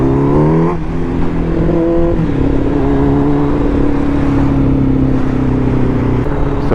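A motorcycle revving hard for wheelies, its engine note climbing and dropping through gear changes, loud and close for the whole stretch.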